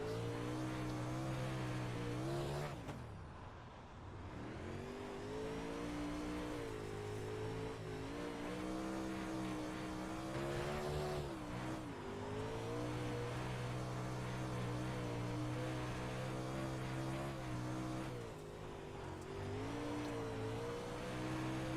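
A super late model dirt race car engine roars in the iRacing video game, droning and revving almost continuously, with brief dips as the throttle lifts for corners before climbing again.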